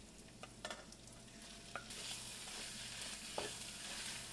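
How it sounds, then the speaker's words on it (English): Tomato paste stirred and sautéing with ground turkey in a pan, a steady low sizzle under scraping stir strokes, brightening as the paste hits the hot pan midway. "Sautéing the tomato paste for a few minutes really helps develop the umami flavor"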